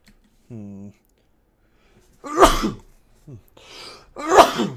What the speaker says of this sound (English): I have loud sneezes.